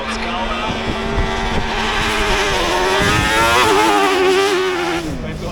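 A Mitsubishi Outback launches at a hill climb drag race, its engine revving loud and close with a rising, wavering harmonic whine for several seconds.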